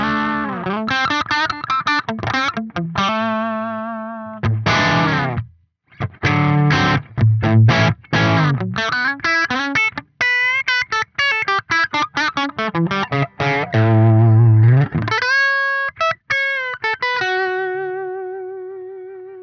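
Electric guitar with a crunchy, overdriven tone through a Neural DSP Soldano SLO-100 plugin plays loud chords and riffs with sustained notes and short gaps, close and alone.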